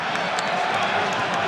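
Spectators in a college basketball arena at a South Dakota State versus Nevada game keep up a loud, continuous roar of cheering and clapping, broad and enveloping, with a commentator's voice faintly mixed in.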